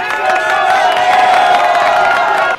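A large crowd cheering and whooping in a stadium at a West Virginia University sports game, with loud, steady roaring and a few tonal shouts standing out.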